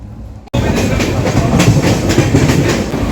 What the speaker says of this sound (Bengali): এখন দমদম জংশন থেকে ছাড়লো ট্রেন, কিছুক্ষণ পরেই আমরা শিয়ালদা পৌঁছাবো